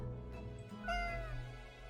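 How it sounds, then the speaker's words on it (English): A cat in the video game Death and Taxes gives a short, clear meow about midway through, quiet and close over a soft tonal game music bed. "Meow."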